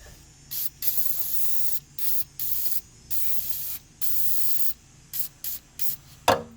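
Liquid Wrench penetrating oil sprayed from a can onto a 1974 VW Super Beetle pickup during restoration, a series of sharp hissing bursts of varying length separated by short pauses, ending with a brief clunk.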